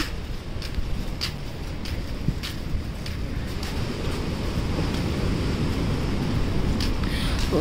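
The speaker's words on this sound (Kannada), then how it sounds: "ಜೋರಾಗೆ ಹೊಡಿತಿದೆ ಅಲೆಗಳ ಸೌಂಡು." Waves wash onto the shore at Eco Beach, Honnavar, in a constant rushing roar, with wind buffeting the microphone in occasional bursts.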